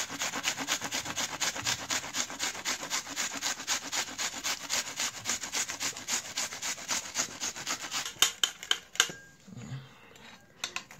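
An onion is grated on the small side of a hand grater in fast, regular rasping strokes, close and steady, then slowing into a few separate scrapes before stopping.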